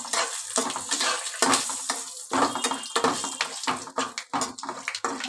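Whole tempering spices, cinnamon stick and mace among them, stirred in a pan, heard as a run of quick scraping strokes and light rattles with sizzling underneath, close and moderately loud.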